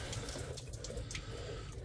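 Coolant water trickles and flows back out of a disconnected pipe on a VW Crafter during an auxiliary water pump replacement, a faint, steady running-water sound close by.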